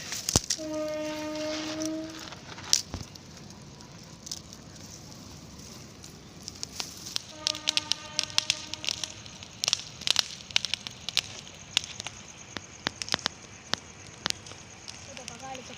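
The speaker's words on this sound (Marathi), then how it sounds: "मित्रांनो ह्या आगेचा उजेड खूप लांब लांबपर्यंत चाललेला आहे" An outdoor bonfire burns with scattered sharp pops and crackles over a steady low hiss, fairly faint, while a few brief voiced tones come through now and then.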